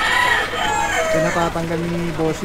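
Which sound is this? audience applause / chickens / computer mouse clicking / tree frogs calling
chickens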